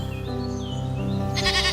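Goat bleating in an animated fable about a tiger, a drawn-out wavering bleat over a steady musical bed, with a brighter burst near the end.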